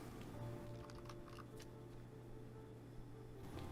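Fingers tap out a steady run of keystrokes on a computer keyboard in a quiet room, soft close clicks over a faint low hum.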